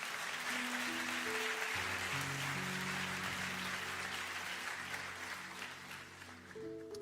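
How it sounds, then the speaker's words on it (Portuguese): A church congregation applauds in a sustained wash of clapping, steady and moderately distant, while organ or keyboard chords sound underneath. "Você pode aplaudir ao Senhor por isso?"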